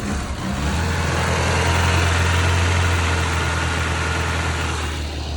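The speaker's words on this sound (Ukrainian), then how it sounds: "То холодний запуск буде, так?" A car engine runs at idle during a cold start, a close, loud and steady low rumble with an even drone that holds unchanged for several seconds.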